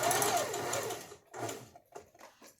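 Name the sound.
sewing machine stitching fabric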